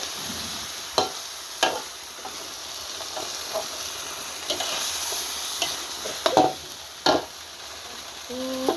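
Meatballs and Chinese bok choy stir-fry in a pan with a constant hissing sizzle, punctuated by sharp scrapes and knocks of a spatula at irregular intervals, no talk.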